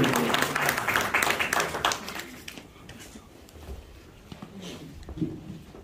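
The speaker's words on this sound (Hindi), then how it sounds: "तालियां जरा जबरदस्त, माशाल्लाह हॉल भरा है, तालियां भी भरपूर" Applause in a full hall at a book launch, a burst of many hands clapping that is loud at first and thins out after about two seconds into scattered claps and low room noise, with faint murmuring toward the end.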